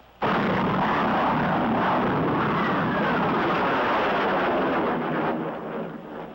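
After a brief hush, a sudden loud roar of jet aircraft noise arrives following a supersonic pullout, a sustained broad rumble that slowly eases toward the end.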